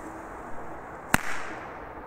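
A single sharp firecracker bang from a street pyro cracker, loud and abrupt against a steady outdoor background, with a brief tail afterward.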